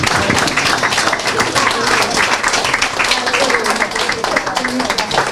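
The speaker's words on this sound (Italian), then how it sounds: "Facciamone un applauso grandissimo" A crowd at a care home's year-end gathering claps loudly and steadily throughout, dense applause that stays at full strength from start to finish.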